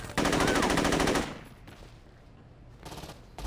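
Rapid automatic AK rifle fire from the Saints Row 2 video game crackles as one loud, dense burst lasting about a second, followed by a short quieter tail and a second faint burst.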